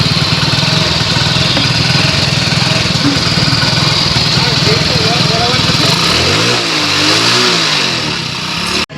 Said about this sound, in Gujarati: આ એક સ્પ્લેન્ડર પ્રો આવ્યું છે, તેમાં ટાઈમિંગ ચેનનો અવાજ છે